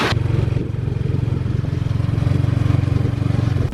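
A tuk-tuk engine runs steadily during a ride through Vientiane, Laos, a loud, low, rapid putter with faint rattling and traffic noise around it, no talk.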